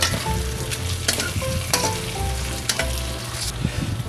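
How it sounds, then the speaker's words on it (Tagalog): Beef skin balbacua with star anise and bay leaves being stirred in a pot, loud sizzling with scraping strokes and clanks of the utensil against the pot, no talking. "Haluin ko."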